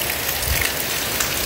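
Wind-driven rain falls on a parked car, a dense, steady patter of drops drumming on the body and roof, loud and close, with occasional heavier splats and no voices.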